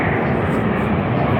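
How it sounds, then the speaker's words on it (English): Steady broadband roar of an aeroplane passing overhead in a residential neighbourhood near the airport in Rümlang, Zurich, filling the whole short stretch at a loud, even level. "so that's why you can listen to the noise of aeroplane"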